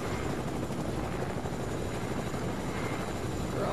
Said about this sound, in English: Okay, I'm not comfortable knowing how low this chopper is.